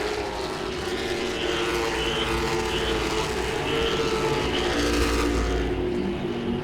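Late model stock cars race at Langley Speedway, a steady loud engine roar that swells and fades slightly as the pack passes, continuous throughout.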